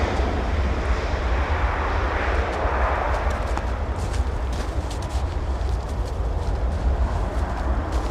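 An arriving airliner touching down at Minneapolis–St. Paul airport in winter, its engines giving a steady, broad roar and low rumble that holds evenly throughout, heard from a distance with no clear voices.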